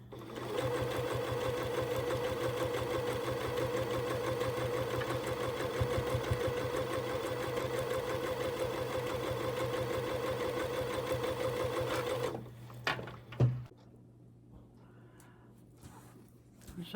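Sewing machine stitching quilt blocks together, a steady, close, loud mechanical whir that runs for about twelve seconds before stopping, followed by a few clicks and soft handling sounds.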